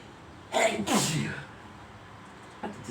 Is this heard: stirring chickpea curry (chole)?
no